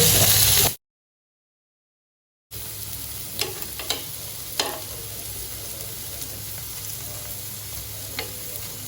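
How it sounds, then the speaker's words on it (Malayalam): Palak paneer ingredients sizzle and fry in extra virgin olive oil in a pan, a steady crackle with occasional stirring clinks, after a brief silent gap at the start. "ഇപ്പോൾ ഇത് ഫ്രൈ ചെയ്യാനായിട്ട് നമ്മൾ യൂസ് ചെയ്തിട്ടുള്ളത് ഒലിവ് ഓയിലാണ് കേട്ടോ"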